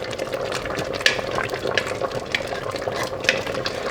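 A spoon stirs a pot of beef caldereta sauce with fried potatoes and carrots, scraping and sloshing in steady strokes over a soft bubbling sizzle, close and alone.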